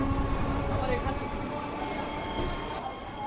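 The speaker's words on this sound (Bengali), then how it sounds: "বিধাননগর থেকে ট্রেনে উঠে পড়লাম" An air-conditioned local train rumbles steadily from Bidhannagar toward Sealdah, West Bengal, with a constant low roar, rattling carriages and occasional faint squeals from the wheels, loud and close from inside.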